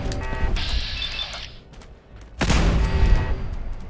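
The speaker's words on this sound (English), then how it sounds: "right here where you see these laser turrets, or these machine gun turrets rather" Machine gun turrets fire bursts in Fallout 4, with a buzzing rattle, then a pause and a louder dense volley of rapid shots close by.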